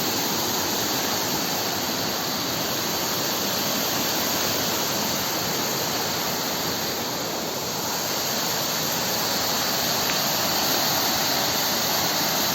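Strong current of water rushing steadily at Aberdeen reservoir in Hong Kong, a dense, continuous roar holding even and loud for the whole stretch with no voices over it.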